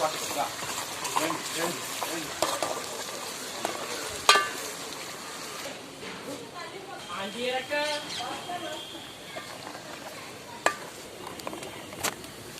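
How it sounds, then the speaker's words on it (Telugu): Ginger garlic paste frying in oil for chicken pickle, a low continuous sizzle with scattered spoon scrapes and a few sharp clinks, faint background chatter and chirps throughout. "అల్లం వెల్లుల్లి పేస్ట్ ఫ్రై అయిపోయింది"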